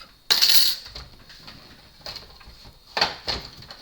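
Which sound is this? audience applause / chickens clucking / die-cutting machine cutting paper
die-cutting machine cutting paper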